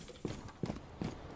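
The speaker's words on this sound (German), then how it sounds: "Ich höre die ganze Zeit irgendwo Schritte." Footsteps in the tactical shooter Rainbow Six Siege, three faint, evenly spaced muffled thuds about a third of a second apart over quiet background.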